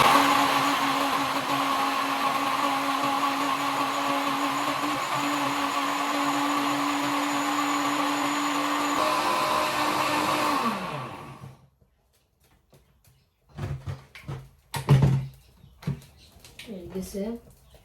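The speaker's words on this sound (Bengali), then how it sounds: "ব্লেন্ডারও হরাই দিছি, এখন গ্রাইন্ড করে নিলাম" A blender grinds Sylheti-style dried fish (shutki) chutney ingredients with a loud, steady whirring drone for about eleven seconds, then winds down and stops, followed by a few seconds of quiet and brief talking.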